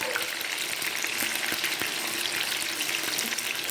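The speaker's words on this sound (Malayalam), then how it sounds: "അപ്പം നമുക്കിത് ചെറിയ ഒരു മീഡിയം സൈസ് ഫ്ലെയിമിൽ ഇട്ട് ഞാൻ ഇത് ഫ്രൈ ചെയ്യുക" Soya chunks fry in a pan over a medium flame, giving a steady, close hiss of sizzling oil with light crackles throughout and no talking.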